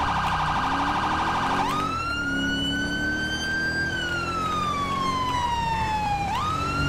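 A police car siren in the video game LSPDFR wails continuously and loudly, its pitch sweeping slowly up and down through a long rising and falling cycle, with steady road and engine noise underneath and no talking.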